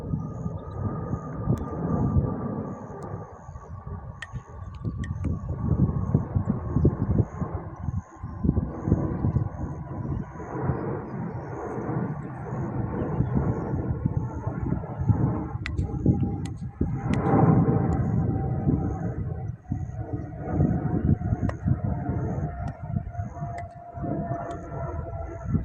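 A large aeroplane passes overhead above a river valley, a steady, loud broadband rumble with a slowly falling tone that drones on for the full length, with no one talking.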